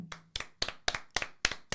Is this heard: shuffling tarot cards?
no